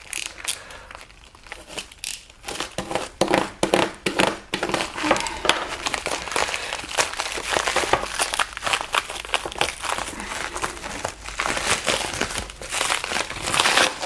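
Plastic packaging from a mail delivery crinkles and crackles as it is pulled away and removed, a dense run of close, loud rustling bursts with irregular rhythm, no talking.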